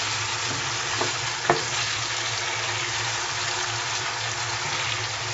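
Chicken tandoori masala frying in a pan over medium heat gives a steady, even sizzle, with a couple of brief clinks as the pieces are turned, and no talking.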